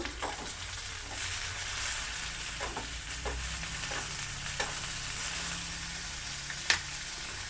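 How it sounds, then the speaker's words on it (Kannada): Tomatoes frying in a pan for Karnataka-style okra huli, a soft, constant sizzle with occasional spoon clinks and stirring scrapes, close and fairly quiet with no voices. "ಈಗ ಇದಕ್ಕೇ ಟೊಮೊಟೊ ಸೇರಿಸ್ತಾ ಇದ್ದೀನಿ ಟೊಮೊಟೊನೂ ಚೆನ್ನಾಗಿ ಫ್ರೈ ಆಗಬೇಕು"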